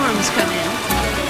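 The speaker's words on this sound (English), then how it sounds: "Storms come in." Rain falling during a storm in the video game The Witcher, a steady wash of hissing drops, with speech heard over it.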